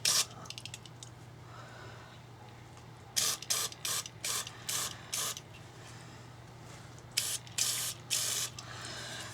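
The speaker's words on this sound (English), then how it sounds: "Let's give it a quick rinse here with the contact cleaner spray." Short hissing bursts from an aerosol can of contact cleaner sprayed onto a scored engine cylinder, a quick run at first, then about ten longer sprays in irregular rhythm over a steady low hum.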